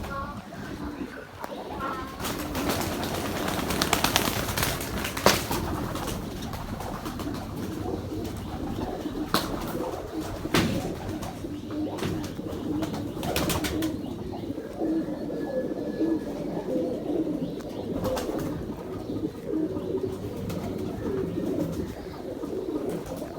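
Ferozpuri Saleti pigeons coo in low, steady murmurs close by, joined by occasional chirps and flutters, while someone talks over much of it.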